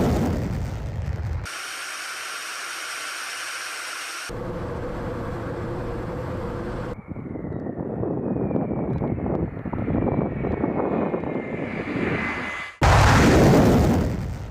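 A Russian Tu-22 bomber flying, heard as a loud, sustained jet roar with shifting hiss and rumble, a rising engine whine in the middle and an abrupt burst of broadband noise near the end.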